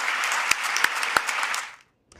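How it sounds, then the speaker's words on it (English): An audience applauds in a loud, dense burst of clapping that fades away after under two seconds, welcoming Nebraska's new athletic director at his introduction. "Please give me a big round of applause"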